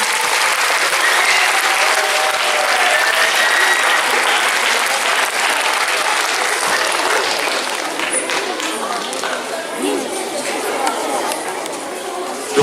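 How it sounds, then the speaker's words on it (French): Sustained applause from an audience for a primary-school class on stage at a school event, dense and steady clapping throughout with crowd murmur mixed in. "On peut les applaudir pendant tout le monde sur scène."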